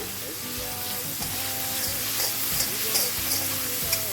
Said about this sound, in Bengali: রসুনটা যেই একটুখানি ভাজা হয়ে যাবে